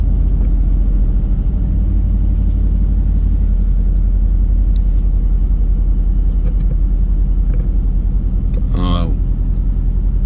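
Renntech-tuned Mercedes-AMG GT S creeping into a parking space, a steady low engine rumble running throughout with a brief louder rev or tonal burst near the end.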